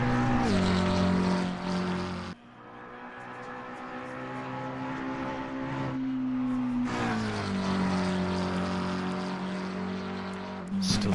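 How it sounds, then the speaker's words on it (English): McLaren V8 GT3 race car engine in a racing video game at Mount Panorama: a loud, sustained engine drone with clear shifting pitch, dropping sharply at a gear change, then climbing again through the revs. "Absolutely glorious sound from the McLaren V8 there."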